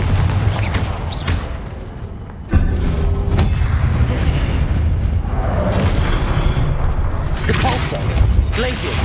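A Confringo fire-blast spell in Hogwarts Legacy bursts with a deep boom partway through, then a rumbling crackle. Loud combat noise and other spell effects surround it, with heavy low-end throughout.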